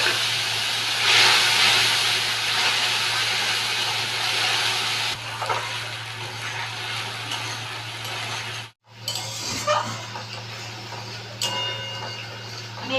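A paste of green chili, cumin and ginger hits hot oil in a pan for a bottle gourd and fish curry, giving a loud, steady sizzling hiss that eases partway, cuts out for an instant, then keeps frying.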